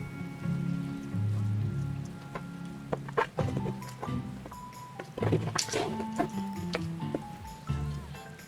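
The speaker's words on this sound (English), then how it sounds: "Oh man, it is pouring." Heavy rain pouring down in a Final Fantasy video game, a steady close hiss of drops on surfaces with scattered knocks and game tones layered over it.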